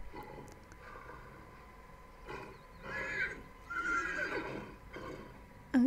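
A horse in The Sims 3 game lets out a long whinnying neigh in several rising and falling bursts, moderately loud over a faint steady background hum.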